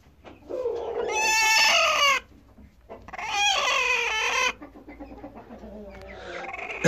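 A broody hen gives two long bursts of loud, harmonic squawking clucks close to the microphone, followed by softer, broken clucking.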